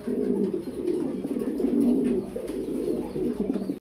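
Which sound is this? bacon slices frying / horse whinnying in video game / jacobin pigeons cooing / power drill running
jacobin pigeons cooing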